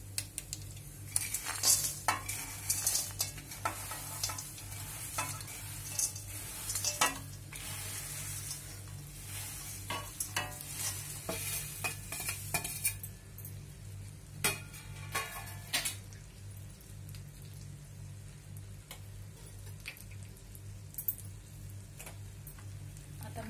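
A poha chivda mixture is stirred and tossed a little at a time in a hot kadhai with the gas turned off, giving steady close scraping and rustling with clinks of a spoon against the metal pan over a faint low hum.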